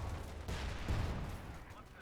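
Gunfire from a Company of Heroes 2 match as a USF Easy 8 Sherman picks off Ostheer grenadiers: a continuous dense bed of battle noise with heavier low thumps mid-clip, loud and steady throughout, with no voice over it.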